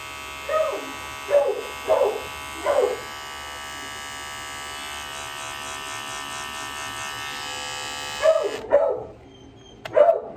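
Electric dog grooming clippers, slightly dull and due for sharpening, run with a steady close buzz for about eight seconds, with dog barks popping in at the start and again near the end.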